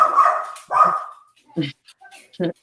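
Two tiny dogs give short, sharp yips in the background, heard as a few quick separate bursts after a stretch of close talking.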